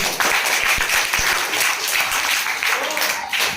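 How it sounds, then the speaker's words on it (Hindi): A school science quiz competition audience breaks into sustained, fairly loud applause after a correct answer, the clapping steady throughout with some voices mixed in. "बिल्कुल सही, ताली बजा दें।"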